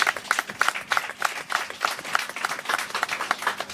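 An audience at a foundation event applauds a guest's presence, a lively, fairly close burst of many hands clapping in a quick, uneven rhythm that keeps going throughout.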